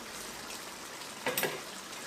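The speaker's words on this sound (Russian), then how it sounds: "Накрываем и тушим теперь с помидорами." Tomatoes stewing under a lid in a pot for a meat solyanka, giving a soft steady simmer and sizzle with a brief cluster of louder pops near the end.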